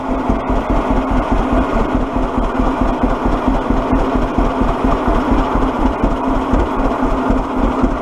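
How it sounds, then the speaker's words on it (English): A tractor engine idles low and steady, a loud, close, continuous rumbling chug with an even pulsing throb and no voices. "I got to adjust the idle speed on this. It idles down just a little too low."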